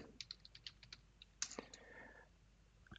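Soft, quick keystrokes on a computer keyboard tap out a password, about a dozen light clicks in a loose rhythm, then a firmer key press, quiet and close.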